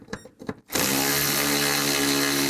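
A power tool with a 10mm socket spins out bolts above a GMC Yukon radiator, a sharp steady whir starting abruptly after a few brief knocks and continuing, close and loud.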